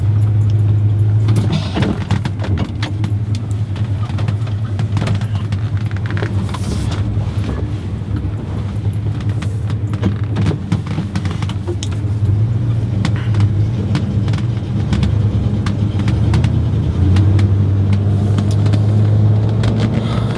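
A Chevy C10 truck idles and rolls through a slow turnaround in a driveway, a steady low engine hum running throughout with light rattles, and a brief swell near the middle and end.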